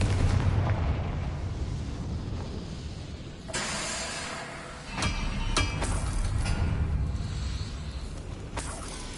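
A Confringo fire spell explodes in Hogwarts Legacy on a PS5 Pro: a steady, loud rumbling wash breaks into sharp blasts and crackling bursts partway through, then stays dense and booming to the end.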